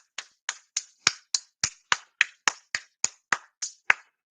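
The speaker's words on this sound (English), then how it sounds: "Can I get a hand clap?" About fifteen sharp, evenly spaced hand claps ring out alone at a steady beat, close and crisp, with nothing else heard between them.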